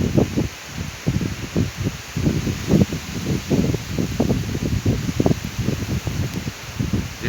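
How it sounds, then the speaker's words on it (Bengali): Wind gusting through foliage ahead of a storm under a cloudy sky, a continuous leafy rustle with choppy surges and buffeting close to the microphone. "যেভাবে মেঘ বা বাতাস শুরু হয়েছে মনে হচ্ছে যে অনেকক্ষণ থাকবে।"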